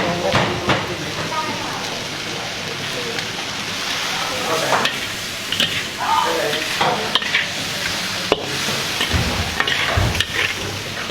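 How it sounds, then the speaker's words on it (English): Chopped garlic and fried tiger shrimp stir-fried together at an Indian street food stall in Kerala, giving a steady close sizzle and hiss with repeated scraping and clattering stirs throughout. "they're gonna then quickly stir fry with the fried shrimp"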